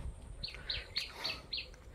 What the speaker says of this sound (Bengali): আহা, পাখির আওয়াজ।